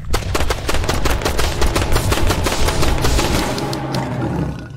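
Rapid automatic gunfire from a weapon in the survival video game Road to Eden, a loud dense volley of shots continuing for several seconds.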